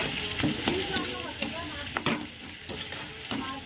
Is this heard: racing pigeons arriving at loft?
no